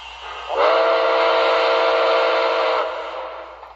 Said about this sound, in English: So here's the whistle.